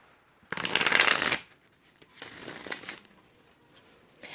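Tarot cards being shuffled up close: a dense papery riffle burst, a pause, then a second softer shuffle, with faint rustling after.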